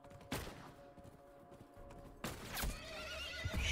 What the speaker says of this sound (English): Hey, don't shoot my horse.